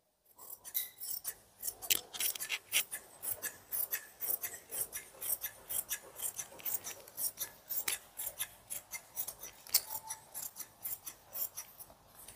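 Scissors snip repeatedly through fabric being cut for a house coat, a close, steady series of crisp rasping cuts with a quick rhythm and no talking.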